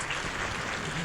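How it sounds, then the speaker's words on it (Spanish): Church congregation applauding during a Sunday service, a dense, steady wash of clapping that fills the whole short moment without any clear voices on top. "Yo creo que Dios se merece un aplauso el día de hoy"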